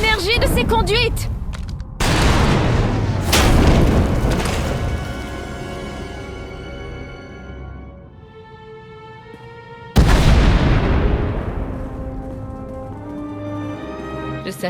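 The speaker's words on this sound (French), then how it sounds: "On a entendu des explosions." Explosions and blaster-style bursts in the Star Wars The Old Republic video game, several heavy booms with long ringing, fading tails, one big blast near the start and another later, under score and effects.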